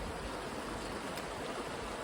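Mountain creek at a trail river crossing in the Wind River Range, rushing steadily as a continuous broadband water wash, close and fairly loud, with no voices over it.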